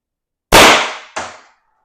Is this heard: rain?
no